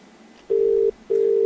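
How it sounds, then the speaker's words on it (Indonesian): A telephone call being placed, heard as two steady ringback tone bursts, each about half a second long, separated by a short gap and clear over faint background hiss. "Oke, langsung aja kita telepon orangnya."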